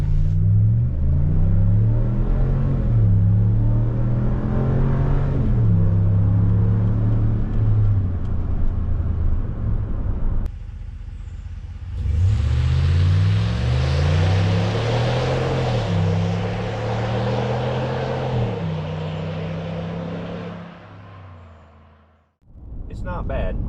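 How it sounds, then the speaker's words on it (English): Inside the cab of a 2019 Ram 1500 on its stock exhaust, the engine revs up through several gear changes with a steady muffled drone, backs off, then pulls again before cutting out near the end, with some talk faintly underneath. "you guys get an idea of what the sound is like inside the cab with the stock exhaust"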